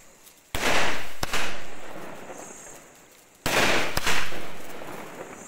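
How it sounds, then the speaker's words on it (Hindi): Two loud Diwali firecracker blasts, each a sharp bang followed by a long rumbling, crackling decay, close by with a pause between them. "ये भयंकर पटाखे"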